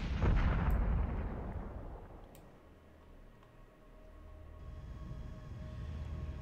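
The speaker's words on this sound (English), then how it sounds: "There was something shooting our vessels, but I don't know what it was." A space video game fires on spaceships with heavy, booming artillery-like blasts, loud at first and then rumbling on with a few sharp cracks.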